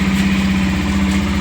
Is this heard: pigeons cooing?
no